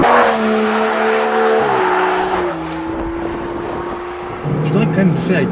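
An Aston Martin DBS engine revs hard beyond 4000 rpm, a loud sustained roar with rising and shifting harmonic tones that dips slightly before surging again near the end, with talk faintly present.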